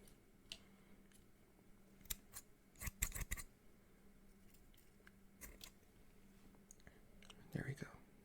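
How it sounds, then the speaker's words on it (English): Scissors snip close by in a quiet, hushed whisper-style setting, a few crisp isolated cuts scattered among soft clicks and rustles, with a louder cluster of snips midway. "I see a long piece up here, so I have to snip that one"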